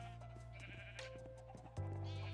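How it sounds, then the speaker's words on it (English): Sheep bleating in the Minecraft video game, a few short nasal bleats over a steady droning background of game sound and music, moderately loud with no talking. "They will breed and they will create a baby sheep"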